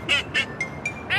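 Five nasal, honking cartoon-style quacks from the duck in Pocoyo, in quick irregular succession, close and loud, the last one longer and raspier.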